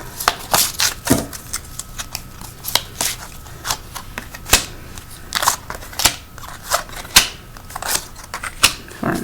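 Oracle cards are shuffled by hand, producing irregular crisp snaps, riffles and light slaps at close range, with quiet pauses between bursts.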